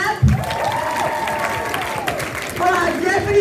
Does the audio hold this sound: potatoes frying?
no